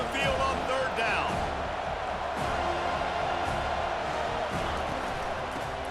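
Home crowd in EA Sports College Football 25 roars steadily throughout, a dense sustained stadium din with whoops on a third-down defensive stand, a commentator's voice running over it.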